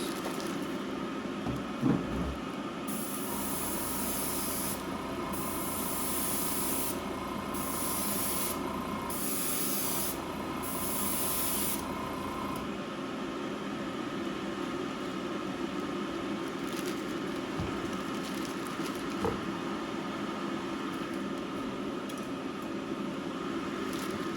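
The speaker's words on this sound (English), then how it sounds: "use my airbrush to paint on a little bit of that color and just see what it looks like on a hard surface" Airbrush spraying Jo Sonja pearlescent paint onto a hard surface, in several short hissing bursts over a steady background hum, close and fairly loud, with no talking.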